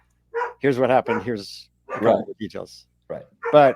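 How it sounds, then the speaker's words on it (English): Dogs bark in short bursts, tangled with a man's speech close to the microphone. The yaps and his talking overlap in quick, uneven clusters. "sorry about the dogs"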